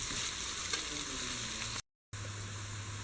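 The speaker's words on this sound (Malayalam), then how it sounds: "ഇത് നല്ല ഗോൾഡൻ കളറാകുന്നവരെ ഫ്രൈ ചെയ്തെടുക്കാം." Onions frying in a pan with a pinch of salt until golden give a steady, close sizzling hiss with faint stirring, broken by a brief silent gap before the crackle resumes.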